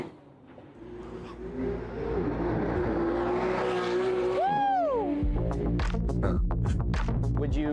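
Cars accelerate hard from a parking-area on-ramp onto the Wangan expressway in Japan. Engines build into a loud, throbbing rev with a sharp rising-and-falling pitch sweep mid-way, then more engine roar keeps passing close by.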